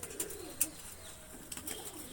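Pigeons in a loft with five to seven large birds coo softly while mustard seed and wheat grain are set out for them, with faint scattered chirps and a few brief sharp sounds over a quiet background.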